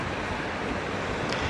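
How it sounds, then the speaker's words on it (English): Waterfall cascading into a hotel pool at the Viva Blue & Spa Hotel in Majorca, a steady broadband rush of falling water that stays even and continuous throughout, with no voices. "the waterfall cascading down a further pool on the far side"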